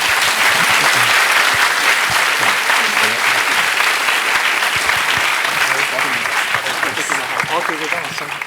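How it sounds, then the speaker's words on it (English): Applause from a lecture audience in an auditorium claps loudly and continuously, holding steady before slowly thinning out toward the end. "may we now give another round of applause to Benny"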